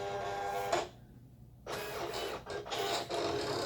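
A Silhouette Cameo 4 cutting machine slicing heavy cardstock on a mat, whirring and buzzing in close, mechanical bursts broken by brief pauses as the carriage moves, with no talk.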